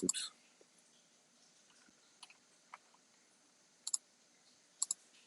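Computer mouse clicks during Photoshop work, a few faint, sharp clicks, some in quick pairs, spread over quiet background.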